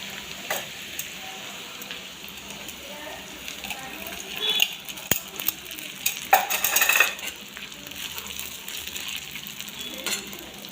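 Soaked sago pearls roast in a pan for sabudana khichdi, giving a faint, steady sizzle broken by scattered clinks and stirring scrapes that peak near the middle.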